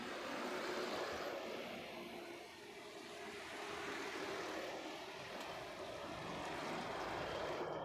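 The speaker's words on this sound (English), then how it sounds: "So just about to touch down. British Airways flight 947. It's a shuttle service coming down from Manchester." A British Airways jet airliner on a shuttle from Manchester comes in to land at Heathrow, a faint, steady broadband engine roar that dips briefly and then holds on, with no voices.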